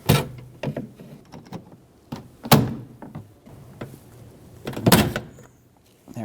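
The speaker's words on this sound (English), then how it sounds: "Let's pop this yellow clip off." A pick pries a yellow plastic clip off the door handle rod inside the door of a 2008-2020 Dodge Grand Caravan, giving a series of sharp plastic clicks and knocks with a louder snap near the end.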